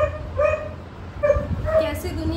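A young purebred puppy lets out thin, high whining cries in short bursts, close by, as someone talks over it.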